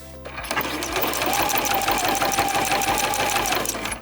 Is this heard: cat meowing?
no